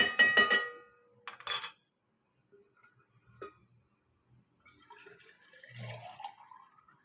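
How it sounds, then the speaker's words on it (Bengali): Water running from a tap into a bottle in a home kitchen, with two short splashing bursts of flow near the start, then quiet with faint trickles and clinks. "এই বোতলটা আমি ভরে দেবো"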